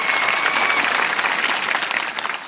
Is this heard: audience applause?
yes